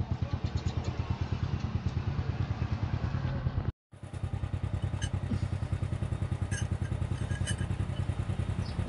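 A motorcycle engine idles close by with a steady, rapid chugging pulse, loud and continuous, cutting out briefly before resuming at the same rhythm.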